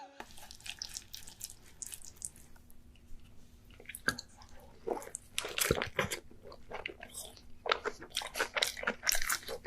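A mukbang eater is chewing a large amount of cheese close to the mic, with wet, squishy bites and crunches coming in irregular bursts, loud and intimate, and no talk.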